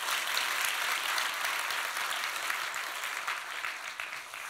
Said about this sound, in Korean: 박수 하나 합시다